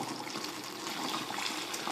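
Hot pasta water pours steadily out of a pot through a strainer into a kitchen sink, a continuous close rushing splash with no talking.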